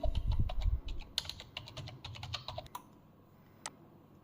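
Rapid, uneven clatter of keys on a computer keyboard as an Aadhaar number is typed in, close and fairly quiet, with bursts of taps that thin out toward the end.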